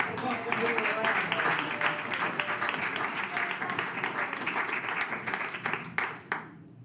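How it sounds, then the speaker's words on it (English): Audience applause at a city commission regular meeting, a steady wash of clapping from a crowd that continues for several seconds before tapering off at the end. "We give you all a round of applause"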